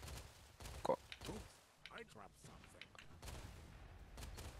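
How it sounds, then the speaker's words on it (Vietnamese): Gunfire from a slow-firing weapon in the 3v3 shooter game Ricochet Squad, with several faint, separate shots spread unevenly across a quiet background. "Bắn hơi chậm, súng bắn hơi chậm Súng bắn từng nhát từng nhát một đấy, nó hơi chậm"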